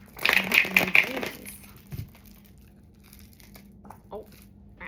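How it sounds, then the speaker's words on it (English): Tarot cards being shuffled during a reading, giving a close, crinkly papery rustle in a short burst at the start that then thins to faint handling sounds and quiet room noise. "Sorry if that's loud with the shuffling."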